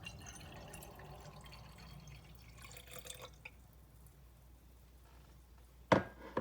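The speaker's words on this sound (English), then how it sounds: "the first thing we're going to add is 2 cups of water" Filtered water poured into a mason jar gives a soft, continuous trickle and splash close by, ending with a brief clink of the vessel.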